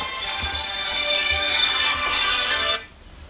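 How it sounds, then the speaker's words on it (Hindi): A mobile phone rings with an incoming call, a bright tonal ringtone melody playing loud and close for nearly three seconds before cutting off abruptly, leaving quiet background. "किसी का फ़ोन आ गया"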